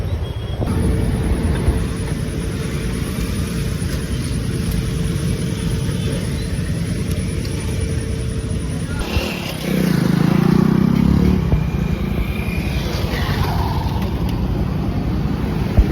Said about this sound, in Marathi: माझी स्कूटी ती बंद पडलेली. किक स्टार्ट करून चालू करायला लागेल आणि चालू होतं.